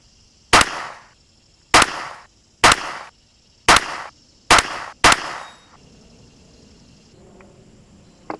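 Six sharp CCI Pistol Match .22 LR rifle shots fired over a chronograph, evenly spaced, loud and close, each with a short ringing decay, followed by quiet.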